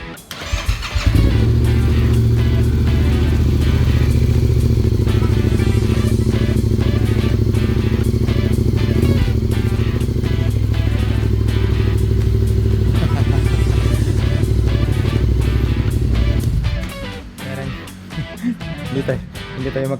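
A motorcycle fitted with a new Yoshimura exhaust starts up and runs loud and close with a steady, throaty idle for most of the clip, then drops off near the end into quick uneven pops, while someone talks over it.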